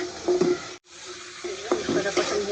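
Spice paste with tomatoes fries in a pan, a continuous bubbling sizzle that cuts out for an instant, then returns with stirring scrapes and brief clinks of a spoon.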